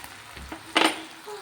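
Mixed sauce poured into a hot pan for chilli chicken hisses in a loud burst of sizzling, rising from a quiet simmer before easing back; utensils clink faintly in between, no voices.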